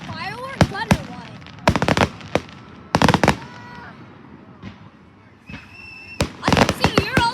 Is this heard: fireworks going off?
yes